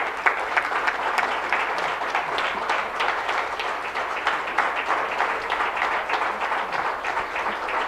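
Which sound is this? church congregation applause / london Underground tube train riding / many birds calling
church congregation applause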